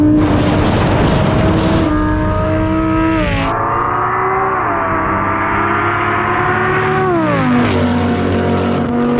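A supercharged minivan drag racing a V10 Audi R8, with loud sustained engine roar climbing through the gears, each shift dropping the pitch before it rises again, steady and close throughout with no speech.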